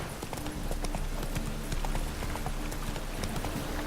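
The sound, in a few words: horse Roach trotting, hoofbeats, from video game The Witcher 3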